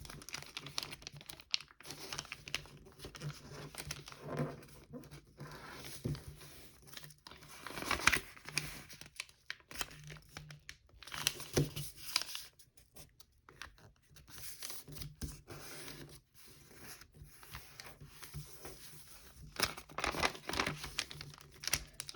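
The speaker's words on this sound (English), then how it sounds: "And just fold that up." Sheets of paper being folded into a Phalanx fighter-jet paper airplane, with close, repeated crinkling and crisp creasing rustles in bursts, quiet pauses between folds and no talking.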